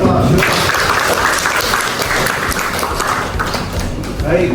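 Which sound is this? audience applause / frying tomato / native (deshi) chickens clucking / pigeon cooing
audience applause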